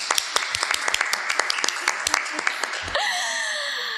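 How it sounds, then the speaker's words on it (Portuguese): Applause greets listeners at the start of an evangelism podcast, a steady patter of sharp claps for about three seconds before giving way to a bright, sweeping synth-like tone that fades out. "Salva de palmas, por favor."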